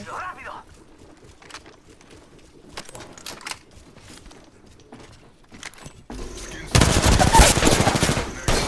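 Gunfire in a shooter video game starts as scattered faint shots and clicks, then breaks into a loud, dense burst of rapid fire near the end.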